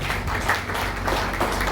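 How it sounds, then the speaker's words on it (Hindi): A hall audience gives a dense, even round of applause for a guest, a retired vice admiral of the navy, with continuous clapping at moderate level and no one speaking over it. "एक बार जोरदार तालियां आपके लिए"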